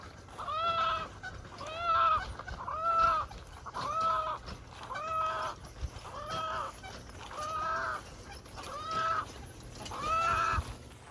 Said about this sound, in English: All the chickens are now out on pasture